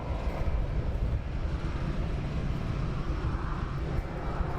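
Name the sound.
Ryanair airliner departing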